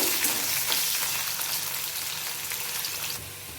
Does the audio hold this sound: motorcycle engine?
no